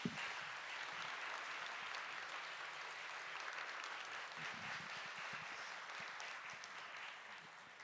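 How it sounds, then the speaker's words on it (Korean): Congregation applause fills an Easter dawn union service shared by seven churches in the London area. Steady, even clapping carries on for the whole stretch at a moderate, slightly distant level, with no voices above it. "크게 한 박수 해주시면 힘이 되겠습니다."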